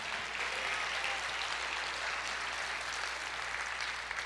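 A church congregation claps in praise, a soft, steady, even patter of many hands heard at a distance, continuous and without talk.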